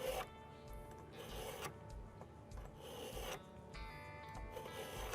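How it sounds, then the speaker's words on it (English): Knife blade drawn through the coarse side of a handheld sharpener on a slightly wobbly table, several quick rasping strokes, close and quiet. "you use that coarse side in there to sharpen your knife"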